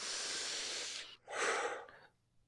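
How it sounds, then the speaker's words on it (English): A deep, close, audible breath is drawn in through the mouth for about a second, followed by a forceful exhale, then near silence as the breath is held. "we're just going to take a deep breath in, let go, and stop breathing"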